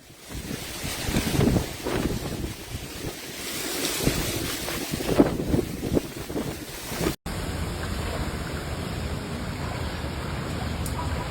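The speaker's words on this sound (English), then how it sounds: "Windy here, Matt." Strong gusting wind from a tropical storm in Fort Myers, Florida, buffets the microphone in loud, irregular bursts, with surf-like rushing noise underneath and a steadier roar after a short cut.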